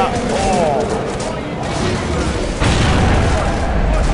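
Grenade blast during a competitive multiplayer shooter match at an esports event, a loud booming burst landing midway through, heard under continuous caster commentary amid ongoing gunfire and game noise.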